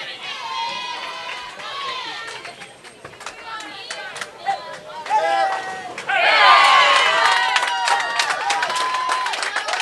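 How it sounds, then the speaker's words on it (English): A crowd at a college bowling championship match in the Sam Houston Track Kat Klash cheers and yells, swelling into a loud roar after a strike, with chatter and excited shouts throughout. "Crowd goes wild on our championship pair"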